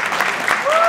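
A live comedy-show audience in Providence, Rhode Island bursting into applause, a dense wash of many hands clapping that fills the whole short moment, loud and close, with faint crowd noise mixed in.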